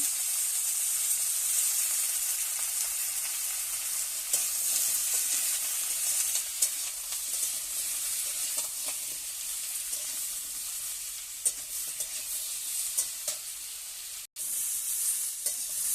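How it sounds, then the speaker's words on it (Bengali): Cut potato and drumstick stem pieces fry in a pan on a home stove, producing a constant close sizzle with light stirring and scraping, steady and unaccompanied by speech. "এবার আলু কোটা ভেজে নিচ্ছে, আলু ডাঁটা কোটা ভেজে নেওয়া হচ্ছে।"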